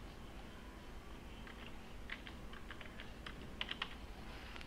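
Quiet keystrokes on a computer keyboard as a graph title is typed in MATLAB, short clusters of soft clicks over a low steady background hum.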